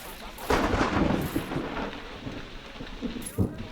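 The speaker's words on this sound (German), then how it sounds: "Oh, das Gewitter, ey." A thunderstorm rolls through the Parkitect video game: steady rain hiss with deep thunder rumbles and sharp crackling bursts, loud and close, a voice briefly heard over it.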